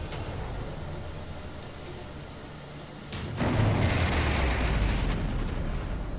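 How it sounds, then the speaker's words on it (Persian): An F-4 Phantom destroys a MiG in a dogfight: an explosion bursts in loudly midway through, then swells into a sustained heavy rumbling roar over the ongoing background din. "چند لحظه بعد یک F4 دیگه دومین میگ رو هم نابود میکنه."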